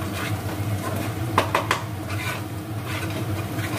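Turmeric and Kashmiri red chili powder stirred in a pan for Bengali bagun basanti, a low steady cooking hiss with a few quick spatula scrapes and clinks against the pan, close and fairly quiet.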